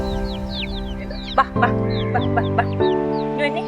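Hens cluck in short bursts close by while small chicks peep continuously in thin, high chirps throughout.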